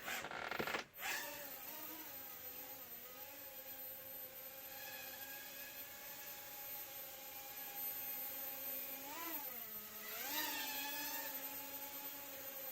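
A small FPV drone flies nearby with a steady, high-pitched motor whine and propeller buzz, its pitch rising and falling in swells as it throttles up and down, with no talking.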